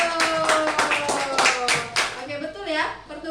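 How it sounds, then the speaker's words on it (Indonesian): A primary-school class claps together in a lesson, a series of sharp rhythmic hand claps with a teacher's voice and children's voices over and around them. "tepuk tangan dulu"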